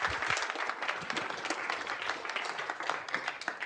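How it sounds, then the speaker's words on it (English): Audience applause at an international show-and-tell developer meetup, a dense, steady wash of many hands clapping continuously throughout, moderately loud with no one talking over it. "Please give a big round of applause for Joby."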